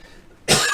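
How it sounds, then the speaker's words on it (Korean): A man's sudden burst of coughing, a loud harsh onset about halfway through that stays strong to the end, following a quiet stretch with no talk. "제가 오늘 말을 안 하다가 갑자기 이렇게 말을 하니까 기침이 자꾸 나오네요"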